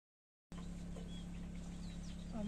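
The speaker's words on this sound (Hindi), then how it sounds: "गांव में पक्षी वगैरह चहचहा रहे हैं सुबह से" Birds calling in a quiet Himachal village orchard, likely hens and a rooster clucking, heard faintly over a steady low hum, with a few short chirps and calls.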